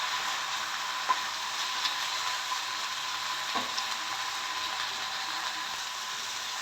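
Drumstick leaves frying in oil for chitranna, cooked until their moisture is gone: a steady, moderate sizzle with occasional faint clicks of a spoon against the pan.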